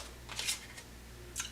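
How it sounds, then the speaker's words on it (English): Tarot cards are shuffled by hand in a few quick, faint riffling bursts, separated by short pauses, with no talk. "Let me see if I can shuffle these without me throwing them all over the place"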